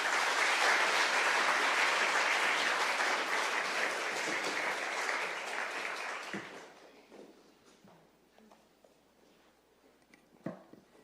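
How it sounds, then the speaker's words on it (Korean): A church congregation at a Sunday worship service applauds in welcome, steady dense clapping filling the room for several seconds before tapering off into scattered claps and quiet. "감사와 환영의 박수 부탁드리겠습니다"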